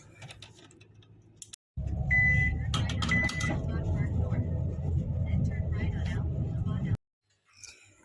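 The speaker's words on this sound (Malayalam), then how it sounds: "വണ്ടി എടുക്കുന്നുണ്ട് അപ്പോൾ നമുക്ക് പോവല്ലേ ഗൈസ്" A car starts moving off in Qatar, its engine note rising after a brief click and holding a steady close rumble for several seconds before cutting out, with a voice speaking early on.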